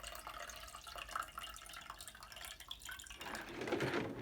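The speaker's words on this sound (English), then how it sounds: "We'll pour it in the first cup." Cold water poured into a cup, a faint trickling splash that grows fuller and louder toward the end as the cup fills, close and quiet.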